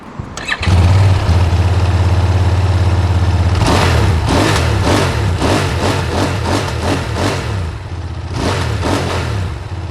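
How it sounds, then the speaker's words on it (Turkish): A twin-cylinder 900cc RKS QJ SRT 900 SX motorcycle engine cranks and fires up, settles into a steady idle, then is blipped through a rapid series of sharp, loud throttle revs close by. "çift silindirin de ayrı bir sesi var 900 cc'de"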